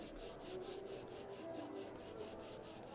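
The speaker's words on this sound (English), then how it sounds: "the file you're using is made out of dragon hide. It's harder than the horn, so it just scrapes it away" A hard file rasps rhythmically across horn in close, quiet strokes, a steady back-and-forth scraping repeated about a dozen times.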